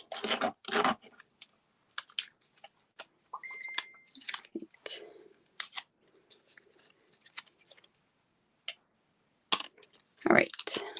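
Scissors snip through stems for a flower arrangement in a run of short, crisp cuts and rustles, scattered over several seconds, close to the listener, with a person talking in between.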